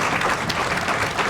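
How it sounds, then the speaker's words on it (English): Brief burst of applause from the crowd at a boxing press conference for Derek Chisora and Otto Wallin, a dense even patter of many hands held steady through the short stretch, with no voices. "Let's get a round of applause, by the way."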